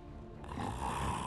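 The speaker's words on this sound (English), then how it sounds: "Oh, listen to the man snore." Low rumbling snore from a character in the Dark Souls 3 video game, one long steady breath that swells slightly louder partway through, heard alone.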